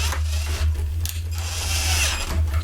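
A power screwdriver whirs steadily while driving screws into the nozzle base of a Hoover UH70935 vacuum, a close, continuous motor hum with brief pitch changes and no talking.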